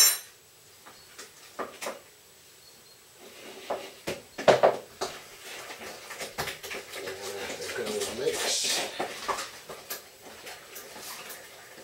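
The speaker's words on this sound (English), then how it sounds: "we'll just mix that in with a wooden spoon" A wooden spoon stirs pumpkin pie filling and dry spice mix in a bowl, giving scattered scrapes, soft knocks and clinks of uneven rhythm at close range over faint room noise.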